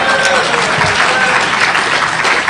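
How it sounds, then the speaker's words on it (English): An audience at the DEF CON 15 hacking conference applauds steadily, a dense, loud wash of clapping that fills the whole clip without pause. "Applause"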